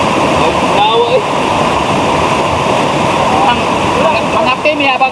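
Cold spring water at Mainit, Kapatagan rushes loudly and steadily, a dense close wash of flowing water with people's voices faintly heard over it.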